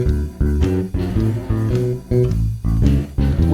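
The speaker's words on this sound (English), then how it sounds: "We can also double the notes to make it more of a shuffle blues bass line" A bass guitar plays a shuffle blues line with doubled notes, a loud, close, bouncy pattern of repeated low notes in short phrases with brief gaps between them.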